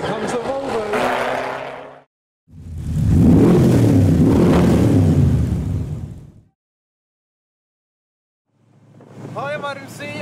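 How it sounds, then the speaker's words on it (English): A Volvo's engine revs hard and roars past for a few seconds at a modified car show, loud and close, with brief talk before and after and a quiet gap in between. "Here comes the Volvo."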